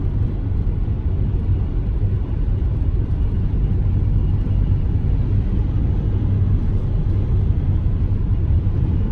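Steady low roaring rumble, constant and loud throughout, from extreme winds buffeting outside a moving S10 4x4 pickup.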